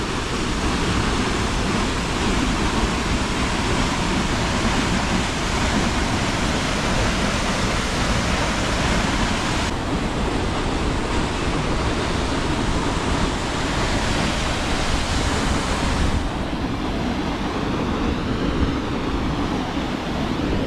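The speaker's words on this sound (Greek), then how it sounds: "Και τώρα βλέπουμε το δεύτερο καταράκτη." The second waterfall at Edessa, Greece, roars in a continuous, powerful broadband rush of falling water heard close up, steady and unbroken throughout with no other sounds rising above it.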